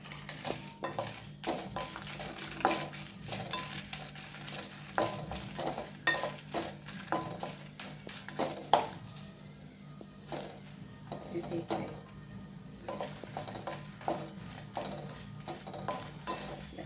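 Grated coconut dry-roasts in a pan while a utensil scrapes and stirs it. Irregular metallic scraping and clinks sit over a faint steady hum, with no talk.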